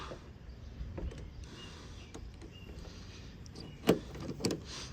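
A rear bumper on a Honda Accord is pried off by hand, giving a couple of sharp plastic pops near the end over a quiet, faintly hissing background.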